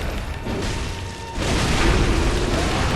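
The Undead Giant's cannon firing in Bloodborne, a deep, heavy boom that swells at about the midpoint and rolls into a sustained, loud rumble, with faint game ambience beneath.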